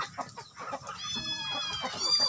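An Asil chicken, a four-time derby-winning rooster, clucks close by in a short run of choppy calls, then gives a longer nasal, drawn-out call.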